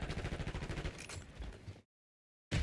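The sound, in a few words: enemy sniper shooting, from video game Black Ops 6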